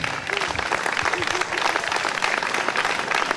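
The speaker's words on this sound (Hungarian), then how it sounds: "Hát még egy nagy tapsot akkor az összes helyezettünknek." Audience applause for the prize winners at a Hungarian village merrymaking contest, a steady dense clapping lasting throughout with a few raised voices and whistles mixed in.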